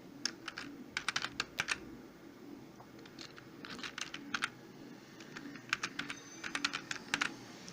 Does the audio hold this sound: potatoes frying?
no